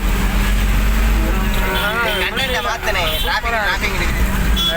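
Heavy city traffic in Chennai makes a dense, constant roar of engines with wavering horns rising over it, while people talk close by.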